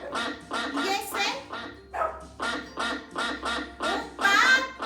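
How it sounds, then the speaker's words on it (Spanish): A duck quacks in a rapid series of loud, nasal calls, about a dozen repeated bursts in a steady rhythm, close and clear with no talk. "¡Un pato!"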